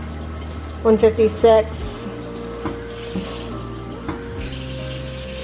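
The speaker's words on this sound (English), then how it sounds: "I gotta add a little more water because it needs to cover it completely" Water runs from a tap and is added to a sous vide cooking container for weekend meal prep. There is a short burst of splashing near the start, then a quieter trickle under ongoing conversation.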